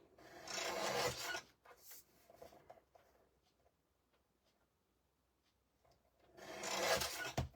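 Patterned scrapbook paper is being trimmed in two loud, fairly close bursts of rasping cuts at the start and end, with faint scattered handling noises in between.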